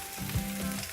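Onion and garlic frying in a pan, a brief continuous sizzle with a soft low knock partway through.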